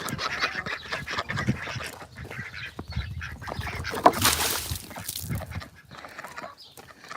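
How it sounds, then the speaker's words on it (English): Ducks quack repeatedly nearby, mixed with honking and clucking from other poultry, a busy, irregular chorus with no talking. "hi ducks, hi chickens"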